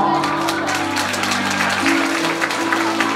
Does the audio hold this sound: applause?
yes